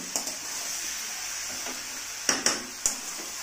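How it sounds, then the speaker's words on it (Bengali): Mushroom curry stirred and fried in a pan, with a steady sizzle throughout and several sharp scrapes and clinks of the spoon against the pan, the loudest clustered near the end. "খুব ভালো করে মিশিয়ে কষাতে হবে।"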